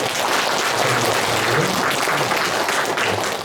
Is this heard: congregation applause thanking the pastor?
yes